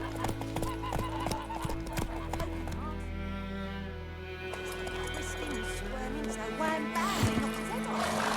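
Roach, a horse in The Witcher 3 video game, trots with steady clip-clopping hooves under game music and ambience, with a voice speaking nearby.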